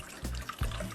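Gelatin being stirred into cucumber juice for a cucumber jelly, giving soft liquid swishes and sloshes close by, with two fuller swirling surges and no talking.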